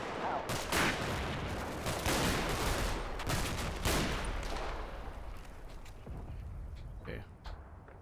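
Gunfire in the WWII tactical game Combat Mission: Battle for Normandy, with dense bursts and sharp reports rolling through a noisy battle soundscape for several seconds before thinning out near the end, with a voice speaking over it.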